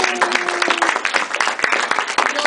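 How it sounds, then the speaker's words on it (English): Loud, dense applause fills a ribbon-cutting ceremony at the Long Beach Public Library Makerspace. The steady wash of clapping continues throughout with no pause. "if we could give them a round of applause"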